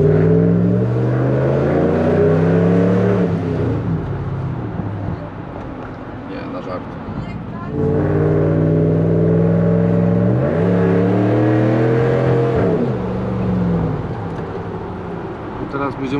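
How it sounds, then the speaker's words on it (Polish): A Dodge Ram pickup with a 5.7 V8 Hemi revs while driving at night, its deep engine drone swelling twice as the throttle opens, steady and close throughout. "A tutaj możemy sobie lekko przygazować."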